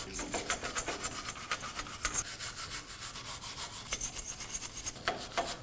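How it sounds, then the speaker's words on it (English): Wire brush scrubbing a wheel hub backing plate on a 2017-2024 Nissan Armada, quick repeated rasping strokes at close range, fairly quiet with no talking. "I'm going to go ahead and use a wire brush and clean the surfaces before I install the new one"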